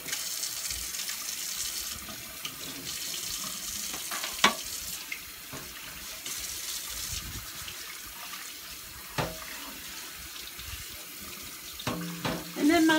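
Tap water runs steadily into a kitchen sink while pots and pans are washed, a continuous hiss broken by occasional clanks of cookware, with more clatter near the end.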